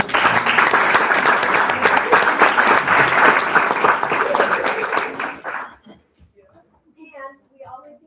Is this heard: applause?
yes